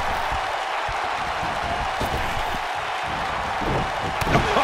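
An arena crowd in the WWE 2K19 wrestling game cheers and applauds in a steady loud roar, with sharp impact slams from the ring cutting through at intervals.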